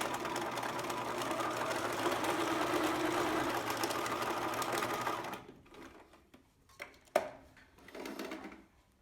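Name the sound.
sewing machine sewing closed the open edge of a pillow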